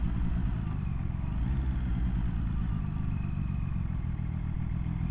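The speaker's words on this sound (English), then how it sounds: "Nice sound from that engine and the exhaust system." A Zontes 703RR sports motorcycle engine rumbles steadily with a low, throaty exhaust note, a continuous mid-level drone without pauses.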